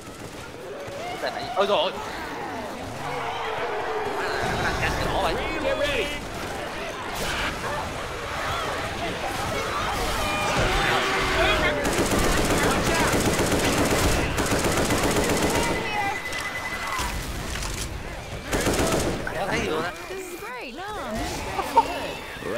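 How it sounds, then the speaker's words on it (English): Machine gun fire in Left 4 Dead 2 rattles in long bursts through a chaotic co-op scene, mixed with loud game noise while several players chatter and exclaim over it. "Grabbing the machine gun."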